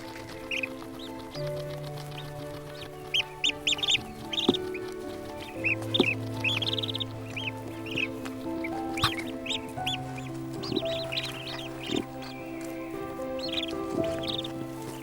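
Goldeneye duck chicks peep repeatedly in a sheltered nest, a run of high, thin calls over a backdrop of sustained lower tones, fairly near and steady throughout.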